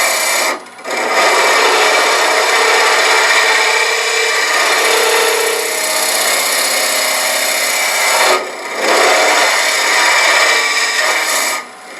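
A Lyle Jamieson hollowing tool bulk-hollows a wood piece spinning on a lathe, giving a steady, close, rasping scrape that runs almost nonstop, with short breaks around the first second and again near the end.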